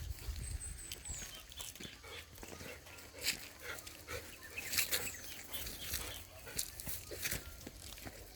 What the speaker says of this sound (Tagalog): Ayan yung mga aso namin. Golden Retriever.